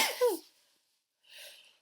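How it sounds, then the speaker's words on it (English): A single sharp sneeze close up, followed after a brief pause by a soft exhaled sniff. "I'm going to sneeze."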